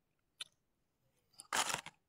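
Close crunching as a raw pili nut kernel is bitten and chewed, a faint click followed by a short dense burst of crisp crunches, quiet and near with no talk.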